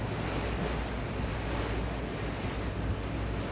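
Rushing water and wind roar steadily around a Princess F65 motor yacht crashing through waves at 30 knots, a loud continuous wash of spray and surf close to the microphone.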